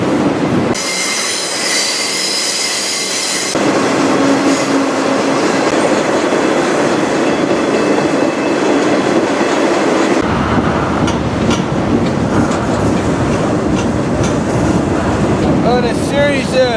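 Loud freight train rolling close by on rails toward Sioux City, Iowa, heard from aboard a car, with steady rumble, clattering wheels and high metallic wheel squeal throughout.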